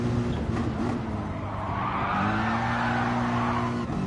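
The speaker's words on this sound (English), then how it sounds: "massive oversteer" Tyres squeal loudly in a sustained skid as a racing car in a time-trial video game slides into heavy oversteer, the howl riding over a steady engine drone for several seconds.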